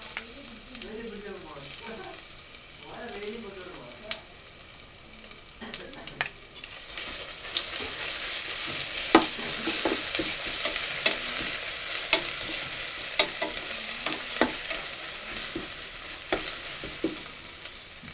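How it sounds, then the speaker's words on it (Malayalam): Onions frying with ginger garlic paste for a Kerala-style pepper chicken curry, a steady bright sizzle with scraping stirs, a spoon clinking against the pan now and then, and a voice speaking early on. "ഇനി നമുക്ക് ഇതിലേക്ക് ജിഞ്ചർ ഗാർലിക് പേസ്റ്റ് ആഡ് ചെയ്യാം."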